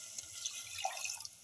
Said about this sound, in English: around 50 to 60 ml of water.